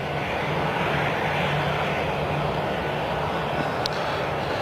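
A plane takes off from the very end of the runway at Stansted Airport. Its engines give a loud, continuous roar that holds steady throughout, with no voices.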